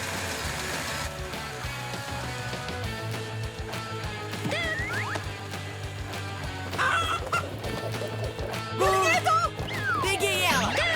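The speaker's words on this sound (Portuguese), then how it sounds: "A galinha aterrissou!" A cartoon chicken clucks in a few short bursts over a busy animated rescue scene with background music and effects, fairly close and clear near the end.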